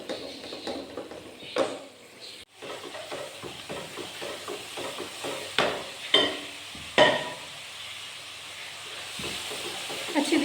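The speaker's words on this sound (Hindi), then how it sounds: "ये जी मसाला जो अच्छी तरह मैं भूनूंगी" Masala roasting in a pan in a Pakistani home kitchen, a soft steady sizzle with repeated scraping and stirring strokes and occasional louder clinks of the spoon against the pan.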